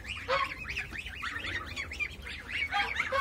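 Geese and white Pekin ducks in a coop honk over and over in a dense, overlapping chorus, loud and close, with no talking.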